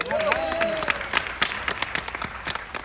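Cruise ship audience applauding platinum loyalty members, a burst of clapping and a few cheers that thins out into scattered claps, with a host's voice at the start.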